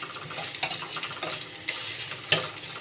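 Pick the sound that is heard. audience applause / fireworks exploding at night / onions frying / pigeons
onions frying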